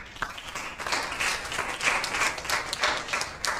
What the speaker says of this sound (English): A round of applause for her again.